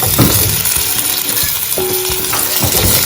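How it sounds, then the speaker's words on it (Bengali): Potatoes frying with salt and turmeric give a steady, close sizzle, with a brief clink of a utensil partway through and no talk. "আলুটা একটু নুন হলুদ দিয়ে ভাজা ভাজা অল্প করে নেবো"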